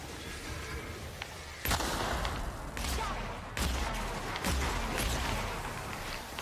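Gunfire in The Outer Worlds video game, loud, sharp blasts in a rapid, uneven series, with bursts of booming impacts over a constant roaring background.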